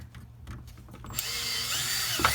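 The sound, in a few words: power drill drilling a bigger hole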